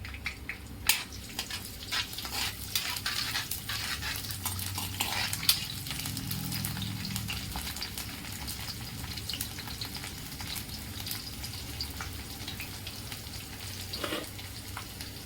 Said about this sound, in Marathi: कढई ठेवली, त्यात घातले तेल। तेल तापल्यावरती त्यात घातले जिरे, मग घातला थोडा जास्त लसूण